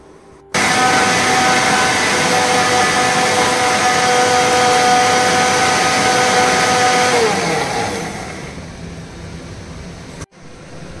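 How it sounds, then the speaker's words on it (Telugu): A mixer grinder whirs loudly and steadily for several seconds blending soft-cooked ingredients for Andhra rasam, then winds down as the motor slows and stops, followed by a brief click. "సో ఇప్పుడు మనం దీన్ని మిక్సీ వేసుకుందాం"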